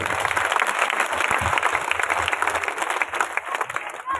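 Loud, dense applause from a crowd at a village yoga event, continuous and fairly close, with some murmuring voices mixed into the clapping.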